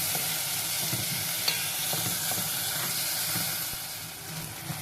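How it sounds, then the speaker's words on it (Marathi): Lima beans (butter beans) sautéing in a pan for rice, a steady close sizzle and hiss with faint scraping stirs throughout, no talking. "आधी नुसत्या डाळिंब्या आपल्याला दोन ते तीन मिनिटं चांगल्या परतून घ्यायचे"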